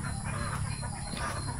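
Native chicken clucking on a duck farm in Poblacion, Hagonoy, Davao del Sur, short close clucks over a noisy outdoor farmyard background.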